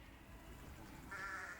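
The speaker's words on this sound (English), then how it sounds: "People want to see the sheep because somehow they belong to the Englischer Garten" Sheep bleating in the Englischer Garten park in Munich, a single faint bleat rising toward the end over a low, quiet outdoor background.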